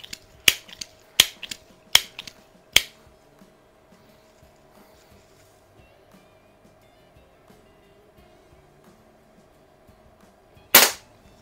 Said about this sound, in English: So this one's 22 caliber. I'm shooting this with Crossman Premier Hollow Points.